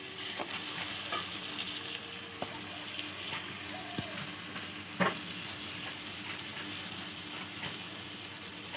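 Egg curry simmering in a pan with chillies, a steady broadband sizzle and bubbling running throughout, with occasional light clicks of a spoon or spatula against the pan.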